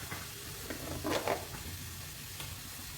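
Something fries lightly in a pan while a creamy chicken tart filling is prepared, a low steady sizzle with a brief louder crackle of stirring partway through, quiet and close.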